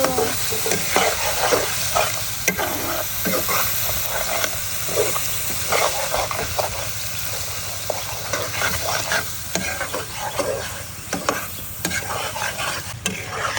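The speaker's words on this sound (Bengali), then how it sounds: "এবার আমি সুন্দর মতো মশলাটা কষিয়ে নেব" Masala being fried and stirred in a pan for a prawn and bottle gourd curry (lau chingri jhol), a steady close sizzle broken by repeated scraping strokes of a spatula throughout.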